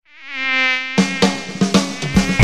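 A mosquito's high whining buzz opens a dengue awareness ad, swelling for about a second before sharp, percussive music hits cut in and take over.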